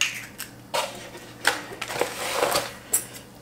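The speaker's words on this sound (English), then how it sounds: "We are going to crack an egg." Sharp clicks and taps of an egg cracked against a small bowl, several distinct knocks and cracks spread over a few seconds, close and moderately loud, with no talking.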